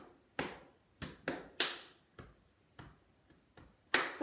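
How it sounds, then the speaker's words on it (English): Thigh and chest pats mixed with claps in body percussion at a school music assembly: about eight crisp, fairly faint slaps in a loose repeating pattern, each decaying quickly, with no voices. "So we go thigh, thigh, double thigh, clap. Chest, chest, double chest, clap."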